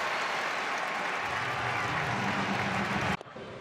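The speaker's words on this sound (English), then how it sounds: "Still gets a nice ovation from the crowd" Baseball stadium crowd at a Blue Jays home game giving a sustained ovation of applause and cheering as pitcher Kevin Gausman leaves the mound, a broad steady roar that cuts off abruptly near the end.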